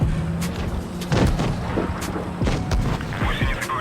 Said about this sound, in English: the shot bounced even from the side, which shows actually the good armor of this tank